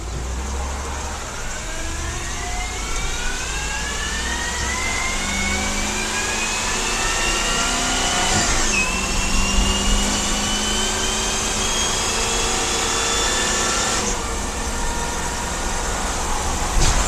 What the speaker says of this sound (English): GM truck engine.